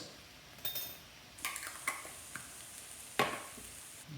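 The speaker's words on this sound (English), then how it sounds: "Stir that around in there." A utensil stirs minced garlic in a skillet, scraping and clinking against the pan in a few sharp, irregular strikes over a faint sizzle.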